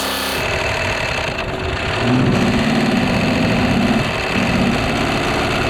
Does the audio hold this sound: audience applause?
no